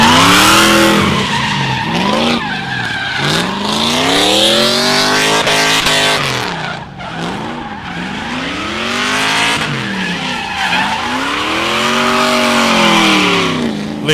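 A drift car at Meremere Drift Park skids through a qualifying run, engine howling in repeated rising and falling sweeps while tires squeal loudly and continuously, close and intense throughout.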